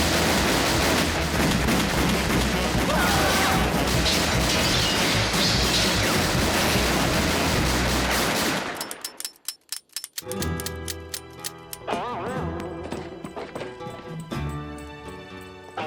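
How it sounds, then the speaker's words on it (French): Cartoon gunfire from a Lucky Luke animation: a dense, loud barrage of crashing shots and clatter fills most of the clip, then breaks off into sparse pops and ricochet-like twangs over music. "On tire dans le tas."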